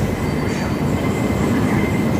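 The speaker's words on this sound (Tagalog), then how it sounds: "Po guys ang tren na naghihintay sa mga pasahero." A passenger train at Hong Kong airport rumbles steadily and loudly throughout, a continuous rolling drone with no pauses.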